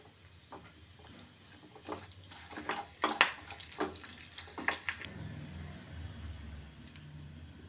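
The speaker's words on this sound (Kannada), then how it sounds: "ಕರಿಬೇವು ಹಾಕ್ತೀನಿ." Fresh curry leaves hit hot oil for pongal, sending up a burst of sputtering, crackling sizzles and pops that then settle into a quieter, steady fry close by.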